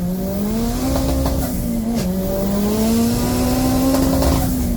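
Front-wheel drive doorslammer drag race cars make a full-throttle pass, a loud, steady engine drone climbing in pitch with a brief dip at a gear change, no talk.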